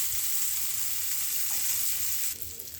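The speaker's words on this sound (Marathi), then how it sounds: "माशाचे तुकडे फ्राय करायला ठेवायचे।" Pieces of pomfret fish fry on a hot pan over a medium flame, giving a steady, soft, close sizzle and crackle throughout.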